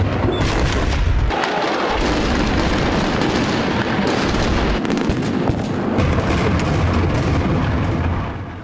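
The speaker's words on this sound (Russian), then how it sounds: "Здесь взрывались гранаты, здесь расстреливали людей прямо из автоматов." Loud grenade blasts and bursts of automatic rifle fire at a street protest, dense and continuous with repeated sharp booms and cracks, fading out at the very end.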